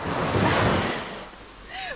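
Sea waves wash onto a beach on Koh Kut island, a broad rushing surf that swells and recedes, mixed with wind buffeting the microphone, no clear talk.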